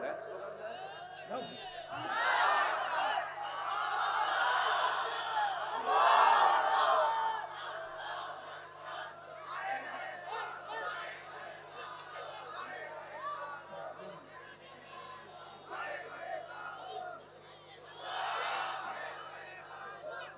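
A large crowd at a religious sermon chants slogans in unison, loud swelling shouts rising and falling in waves with a renewed burst near the end, over a steady background hum.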